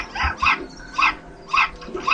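A dog barks in the Hitman: Blood Money video game, four sharp, evenly spaced barks at mid distance over a low game ambience, with no talking.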